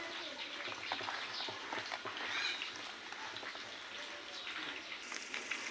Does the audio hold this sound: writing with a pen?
no